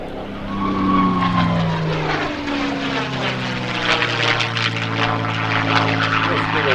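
A P-51D Mustang with its Rolls-Royce Merlin engine roars past at the 2017 New York Airshow: a loud, throaty propeller drone whose pitch sweeps down as it passes close by, with voices faintly underneath.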